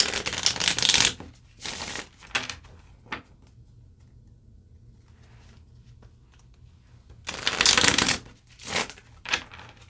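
Tarot and oracle cards shuffle in loud close bursts, a long riffling flurry at the start and another near the end, with scattered card snaps between and a quiet stretch in the middle.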